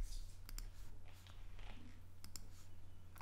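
A few sharp, quiet mouse clicks on a computer, two pairs of quick taps spaced apart in a hushed room, no talking.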